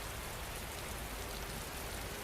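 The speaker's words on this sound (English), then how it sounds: "as the rain begins to soften into nothing more than a memory on the window pane" Steady rain falling on a window pane on a cozy rainy night, a dense, even hiss of drops that continues unbroken throughout, close and moderately loud with no voices.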